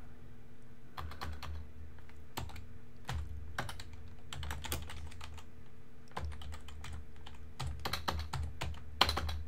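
Typing on a computer keyboard while programming in BASIC comes as quick, close clusters of key clicks with short pauses between bursts over a low steady hum, and no one speaks.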